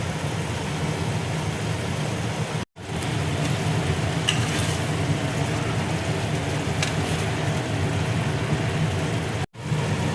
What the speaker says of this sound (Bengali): ঝোলটা দেখো ফুটছে